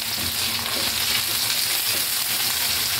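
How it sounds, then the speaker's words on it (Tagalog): Ginger sizzles steadily in hot oil in a pan as the first step of Filipino chicken adobo, a dense continuous frying hiss with faint stirring, close and alone without talk. "Lagay na natin yung ating luya."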